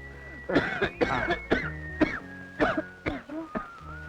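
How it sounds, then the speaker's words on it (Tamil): A series of harsh coughs and throat-clearing bursts, roughly seven in quick succession, close and fairly loud with no talking. "இப்படி இருமுறீங்க"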